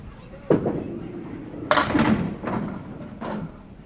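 Candlepin bowling ball thudding full into the head pin, followed by a cluster of sharp pin clatters and knocks in a bowling alley, with voices faintly beneath.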